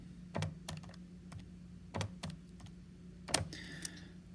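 Keys tapped on a calculator while working a factorial problem, a quick irregular series of sharp clicks in small bursts, quiet and close.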